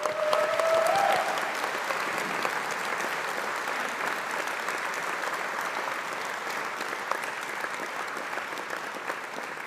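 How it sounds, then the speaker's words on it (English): Large graduation ceremony audience applauding friends and supporters, a sustained wash of clapping from many hands that stays steady and fairly loud throughout with no speech over it. "give the friends and supporters a big round of applause as well"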